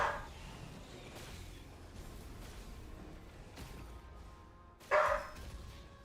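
A house dog gives two separate barks, one right at the start and a louder, closer one near the end, with a muffled room hum between them.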